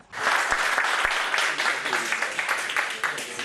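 Long applause greets the naming of the new president of the Catanzaro tribunal, a full, even roomful of clapping that starts abruptly and carries on at a steady level with a couple of sharp knocks near the start.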